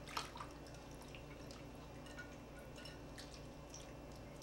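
Uncooked scalloped potato mix is poured over turkey, giving faint wet drips and soft squishy splatters scattered across a quiet background, with no talk.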